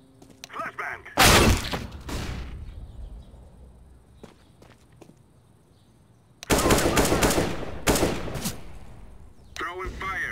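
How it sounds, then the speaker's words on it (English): Counter-Strike: Global Offensive gameplay with bursts of rapid gunfire and a thrown flashbang, loud shots separated by quieter stretches of footsteps and movement, with brief speech. "Throwing a flashbang!"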